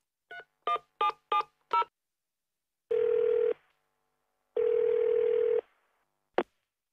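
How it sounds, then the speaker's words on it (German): A telephone number is dialed with five quick DTMF keypad tones, followed by two long, steady call tones and a short click, clean and close with no talking. "Sie rufen die Buchhaltung eines Zulieferers an."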